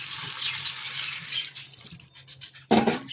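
Potato boiling water is poured into a curry on the stove for gravy, a close splashing gush that tapers into trickles and ends with a brief louder splash.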